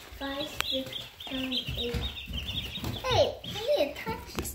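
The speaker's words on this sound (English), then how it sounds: "Look at the chickens. Looks like they're all eating." Chickens cluck and squawk close by, with a voice breaking in now and then.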